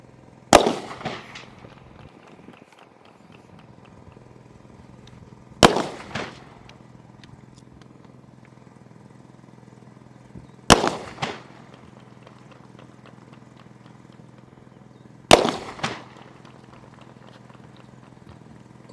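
Four loud gunshots ring out at a police shooting training range, evenly spaced about five seconds apart, each a sharp crack with a short echoing tail over a quiet background.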